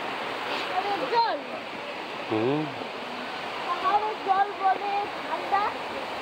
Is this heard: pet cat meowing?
no